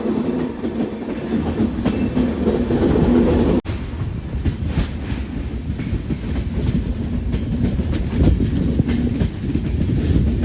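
Karwar Express passenger train running on rails through hilly ghat country, a loud continuous rumble with rhythmic clickety-clack and faint wheel squeal, heard from inside the carriage, with a brief dip partway through.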